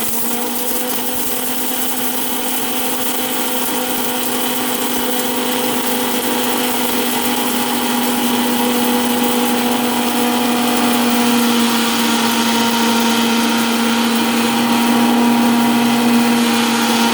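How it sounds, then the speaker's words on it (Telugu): Mixer grinder steadily whirring as it grinds curry leaves into powder in the jar, a constant loud motor drone with a high steady whine throughout, no talk. "ఇదిగోండి ఫ్రెండ్స్, మిక్సీ జార్లో వేసాను. పొడి చేస్తాను"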